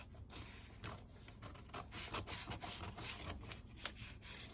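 Scissors cut out a paper sewing pattern for a basic bodice block, a faint, continuous rough rustle and scrape of blades through paper, close by and without talk.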